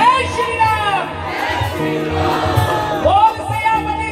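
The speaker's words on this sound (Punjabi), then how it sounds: "ਇੱਕ ਵਾਰੀ ਸਾਰੇ ਨੇ ਜੈ ਸ਼੍ਰੀ ਰਾਮ ਜ਼ੋਰ ਨਾਲ ਬੋਲਣਾ ਹੈ" A crowd at a devotional jagrata night event shouts a loud chant together in rising, swelling waves of voices, with a lead voice and the group answering over a low, rhythmic background.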